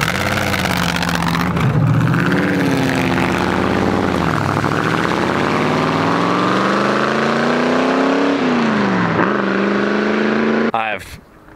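A 1928 hot rod's engine roars and accelerates during a ride, rising in pitch and dropping at gear shifts, loud and close, with voices talking over it before it cuts off at the end.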